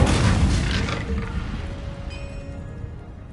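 An Incendio fire spell cast in Hogwarts Legacy: a deep booming whoosh that starts loud and decays over about three seconds into a low rumbling tail with faint tonal ringing.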